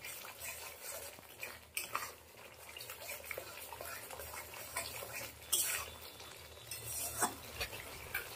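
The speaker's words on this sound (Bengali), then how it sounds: "একটু কষিয়ে নিলাম" Ground spice paste with cashews and raisins is sautéed in a pan for a cauliflower and potato curry. Quiet sizzling runs under soft, irregular scrapes and clinks of a stirring spoon.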